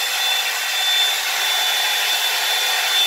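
A Revlon One-Step hair dryer and volumizer blows steadily and loudly for the whole stretch, a constant airy whoosh with a thin high motor whine and no voices.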